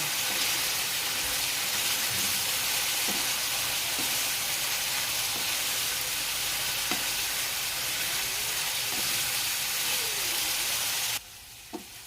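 Minced pork stir-fried with cucumber and basil in a hot pan, a steady dense sizzle with scattered scraping stirs, close and continuous before cutting off near the end.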